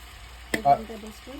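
Garlic goes into a butter sauce for shrimp scampi with a quick sharp clack, then soft sizzling and stirring, close and fairly faint, partly under a voice.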